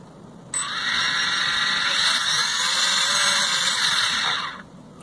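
The motors of a partly repaired Fimi A3 drone spin up into a steady high-pitched whine. It holds for about four seconds, close and fairly loud, then cuts out, with no talking.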